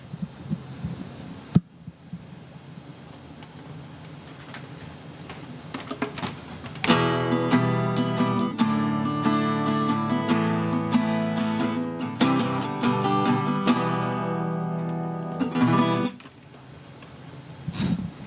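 An acoustic guitar strummed aboard the International Space Station, a sustained ringing chord passage of about nine seconds after a quiet stretch, fairly loud and close, with no talking over it.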